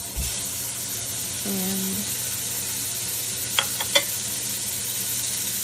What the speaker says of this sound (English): Then you're gonna add in your ground beef